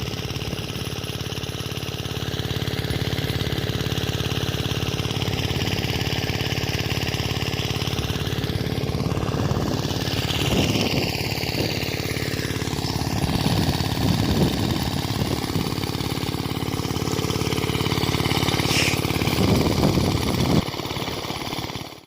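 A steady irrigation pump engine drone runs throughout, close and loud, with a few brief voices breaking in now and then.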